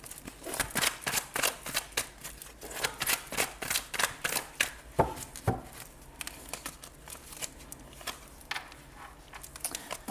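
Tarot cards are shuffled by hand in quick, crisp bursts of riffling and snapping, close and fairly quiet, repeating steadily throughout.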